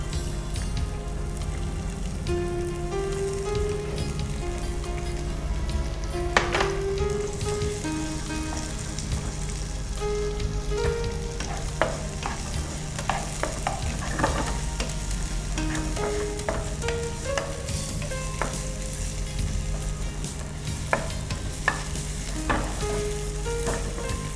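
Onion sizzling and frying in a pan while being stirred, a continuous crackling hiss with scattered pops and scraping clicks throughout.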